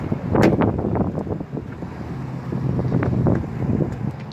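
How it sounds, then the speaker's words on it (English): Strong wind buffeting the microphone outdoors beside a 2016 Chevy Silverado 1500 single cab work truck, a loud continuous rumbling roar that surges and eases throughout. "the wind is blowing pretty hard"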